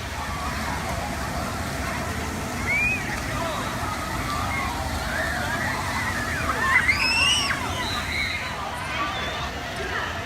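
Water splashing from outdoor fountains near the CNN building makes a steady, broad wash of noise, with faint voices and a few high chirps over it.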